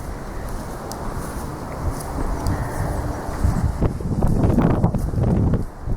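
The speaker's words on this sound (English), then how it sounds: "The wind's blowing my face whichever way I'm facing." Outdoor wind at a churchyard, St David's Manordeifi, with constant buffeting rumble across the microphone that gusts stronger toward the end, and faint rustling in the background.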